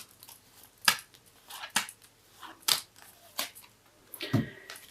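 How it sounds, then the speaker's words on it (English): Tarot cards are shuffled and snapped in short, crisp bursts spaced about a second apart, quiet and close. "I'll just shuffle once again."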